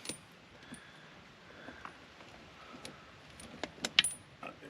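Metal ice pick chains for a John Deere 2038R tractor being bundled with plastic zip ties, giving soft chain rattles and jingles, with sharper clinks toward the end, close up and with no talking.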